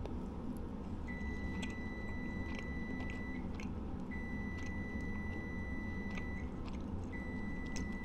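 Steady electronic beeps sound in regular long tones, a pair at a time repeating at even intervals over a low background hum, faint and mechanical.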